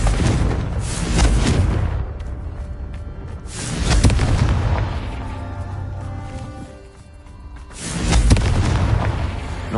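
Confringo explosion spells go off in the video game Hogwarts Legacy. Three heavy, booming blasts land a few seconds apart, each with a rumbling tail that fades before the next.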